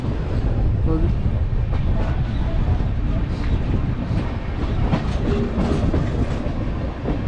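A train rolls steadily along the rails with a continuous rumbling clatter and faint clicks as it crosses onto other tracks, loud and close throughout, with a voice briefly heard over the noise.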